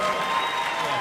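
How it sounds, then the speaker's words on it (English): Brief burst of audience applause at a college event, steady clapping from a crowd with a faint voice over it, cut short after about a second. "Yes, applaud for that."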